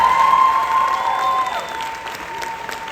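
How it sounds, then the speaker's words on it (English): A convention audience at an Enagic event applauds a speaker on stage, broad loud clapping and crowd noise with a few cheers and whistles near the start, gradually easing off. "We give a round of applause for Jilly."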